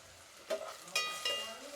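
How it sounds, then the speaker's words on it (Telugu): Onions frying in a pan for khichdi, a quiet steady sizzle with a few brief stirring clinks and scrapes over it. "సో ఆనియన్స్ అయితే బాగా ఫ్రై అయిపోయాయి, బ్రౌనిష్ కలర్లో వచ్చేసాయి."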